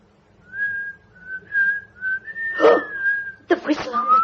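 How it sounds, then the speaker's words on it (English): In a radio drama, a person whistles a short tune in a few clear, drawn-out notes at close range, then a voice breaks in at the end. "Let me whistle it to you."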